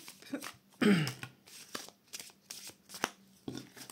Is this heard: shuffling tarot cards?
yes